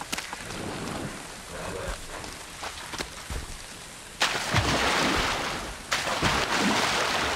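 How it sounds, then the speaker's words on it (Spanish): Rain falls in the swamp zone of the video game Valheim, a steady hiss that swells into heavier downpour bursts partway through, with rumbling low noise beneath. "Ya está lloviendo."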